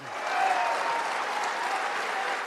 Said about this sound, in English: Martin Iles can pull a crowd wherever he goes, often with a standing ovation